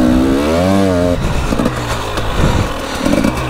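An enduro motorcycle engine revs loud and close on the trail, pitch climbing then dropping as the rider shifts, followed by rough, scraping engine noise over uneven ground.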